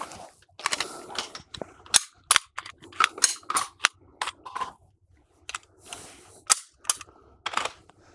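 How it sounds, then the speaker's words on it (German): A pistol being unloaded and made safe on a shooting range gives a series of sharp, close metallic clicks and clacks in irregular bursts, with no talking. "Entladen, Sicherheit herstellen."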